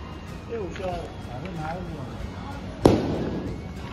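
An old firecracker goes off outdoors with one sharp, loud bang near the end, while several people talk and call out nearby.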